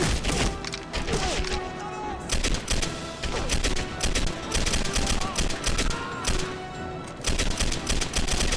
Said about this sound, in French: Putain, je tire dans le mur quoi.